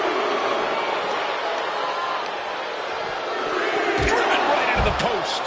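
Arena crowd noise in the WWE 2K25 wrestling game, a loud steady wash of cheering with a few heavy thuds near the end.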